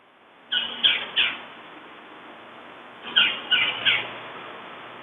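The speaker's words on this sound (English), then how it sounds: "I don't know if everyone can hear the flickers and the chickadee." Two quick series of bright chirps from small birds, northern flickers and a chickadee, call outdoors, each burst three notes long. They sound fairly close and are clear over quiet background air, with a calm pause between the groups.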